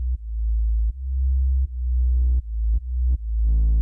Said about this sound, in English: We got a nice little farty sub bass there.